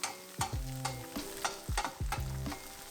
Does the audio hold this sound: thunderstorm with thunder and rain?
no